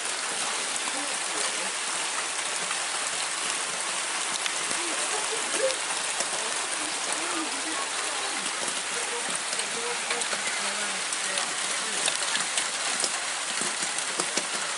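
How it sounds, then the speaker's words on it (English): Heavy rain falls during a thunderstorm in Okehampton, a steady, close hiss of drops pattering on surfaces that continues without a break for about fifteen seconds. "Wish this rain would sod off."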